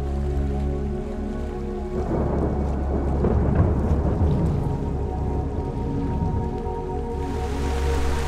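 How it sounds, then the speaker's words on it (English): Rumbling thunder from a distant storm over Isle Royale rolls beneath a steady rain hiss, swelling mid-way and easing toward the end, with no talking. "there's a storm brewing off in the distance"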